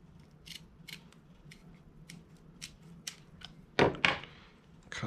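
Scissors snip through the casing of a house fiber optic cable, a series of crisp close cuts spaced irregularly, ending in two louder snips, against a quiet room.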